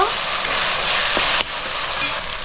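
Cabbage and fish head sizzle steadily in a hot pan with oil and spices, a dense continuous frying hiss broken by occasional scrapes of a spatula stirring the mixture.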